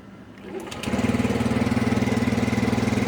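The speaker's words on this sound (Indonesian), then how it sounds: "Dan sekarang kita coba hidupkan motornya ya." A motorcycle engine starts about a second in and settles into a steady, close, rhythmic idle; it is the one started after an anti-theft lock controlled from a phone is switched off. A faint rattle is heard before the engine catches.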